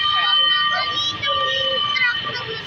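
A wailing fire truck siren rises and falls throughout, with children's voices chattering nearby over the steady tone.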